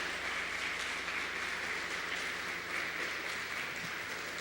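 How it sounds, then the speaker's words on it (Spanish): A church congregation applauds during a Spanish-language Christian sermon: soft, distant clapping heard as a steady, even wash throughout, fairly faint and without clear individual claps. "Yo le daré un aplauso porque Él ha hecho cosas maravillosas."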